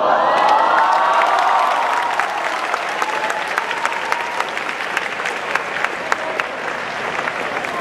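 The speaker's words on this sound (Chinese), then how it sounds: "获得全场的掌声不断" An audience at a student competition's opening ceremony in Taitung applauds, loud sustained clapping with some cheering that swells at first and then settles into steady, slightly thinner clapping.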